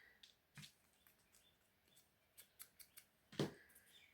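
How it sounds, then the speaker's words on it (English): Scissors snipping a small triangle out of paper for a handmade journal, heard as a handful of quiet, sharp clicks and snips spaced irregularly, with one louder cut near the end and no talking. "you're just going to cut that out, that little triangle"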